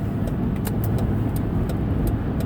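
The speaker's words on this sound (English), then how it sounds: "Always the white cars zooming up the street." White cars zoom up a street, a steady roar of passing traffic and engine noise with faint clicking ticks on top, close and continuous with no talking.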